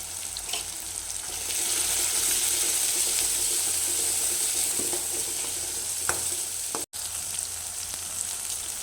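Sliced tomatoes and onion frying with salt in a pan for a chicken curry, a constant close hiss of sizzling with a few faint utensil clicks and a brief gap near the end, no talk.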